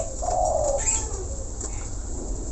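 A single white myna call rises clearly above a steady background hum, a short bright whistled note followed by quieter chirps.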